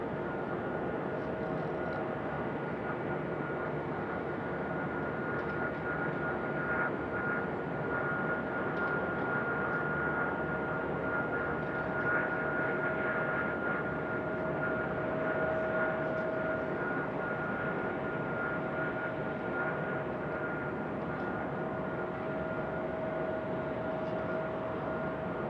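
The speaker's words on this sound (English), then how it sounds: "Got a United pushback right here." Steady airliner engine noise from a United jet being pushed back at Raleigh-Durham International Airport, a continuous distant whine and rumble with a faint tonal hum, no talk throughout.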